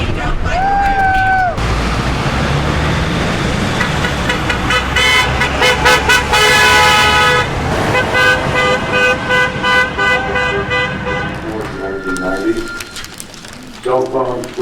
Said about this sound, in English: Honk your horn if you agree.